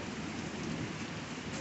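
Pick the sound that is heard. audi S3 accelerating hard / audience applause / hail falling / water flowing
hail falling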